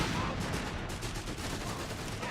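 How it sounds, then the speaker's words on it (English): In a Company of Heroes 3 battle, an anti-tank gun round strikes and bounces off a Matilda tank. The ricochet is buried in a dense, continuous wash of gunfire and explosions. "And first AT gunshot bounced off the Matilda."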